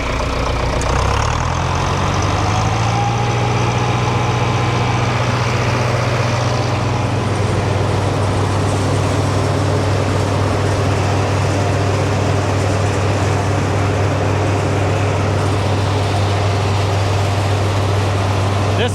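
A tractor engine powering an OXBO BH100 green bean harvester rises from idle to picking RPM, its steady low drone climbing in pitch early on and then holding loud and constant, with spinning machinery noise on top.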